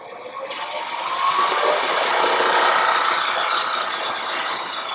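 A gouge cuts into spinning wood on a wood lathe, a steady broadband scraping hiss that swells after the first half second and holds strong before easing slightly, close and continuous with no talk.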